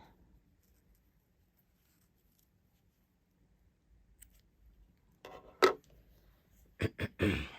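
Scissors snip through crochet yarn on a handmade flower charm: a faint, isolated cut, then a quick cluster of two or three crisp snips close to the microphone after a long, near-silent stretch.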